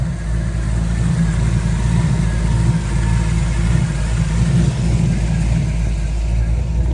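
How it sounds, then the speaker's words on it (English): A 1972 Chevrolet Nova with a 350 V8 idles steadily up close, a deep continuous low rumble that stays loud and even throughout, with no talking over it. "350 engine that sounds just great."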